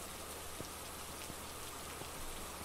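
Steady rain falls in the Phasmophobia ghost-hunting game, a dense, even hiss of drops on surfaces with a few soft louder patters, continuous and close, with no voices.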